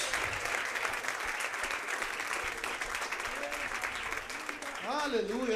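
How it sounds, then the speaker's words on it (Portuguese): A church congregation claps steadily in a dense, continuous wash of hands, with voices calling out over it and a rising vocal exclamation near the end. "aplauda o Senhor Jesus"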